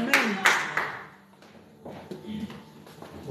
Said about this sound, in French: applaudissez fort la gloire de Dieu, et applaudissez le frère Gaëtan